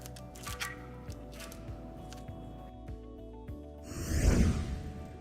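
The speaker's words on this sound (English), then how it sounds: "make a clean cut with your box cutters" A box cutter slices tubeless rim tape on a bicycle rim near the valve opening: a few light ticks and scrapes, then a short, louder rasping cut.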